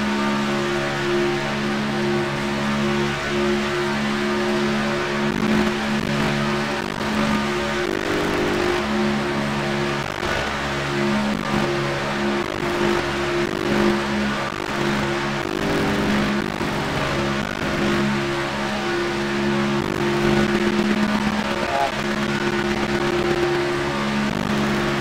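Race cars in the iRacing sim during a Carb Cup race give off a continuous, loud engine drone with steady tonal harmonics that swell slightly as the cars push hard.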